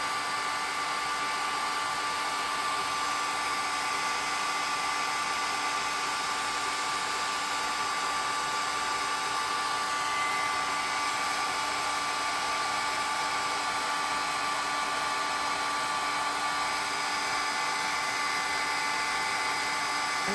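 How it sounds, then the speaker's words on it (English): A heat gun reaching close to 400 degrees blows hot air during a craft project, a steady loud whirring drone with a high whine that holds unbroken throughout. "this heat gun heats up to like close to 400 degrees"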